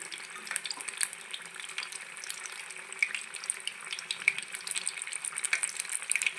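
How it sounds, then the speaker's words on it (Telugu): Ajwain leaf bajji frying in hot oil, a steady close crackling sizzle with dense tiny pops and bubbling running throughout, no voices. "ఇట్లా రెండు వైపులుగా వేయించుకుందాము. ఫ్రై అవుతుంటాయి, గోల్డెన్ బ్రౌన్లోకి రావాలి."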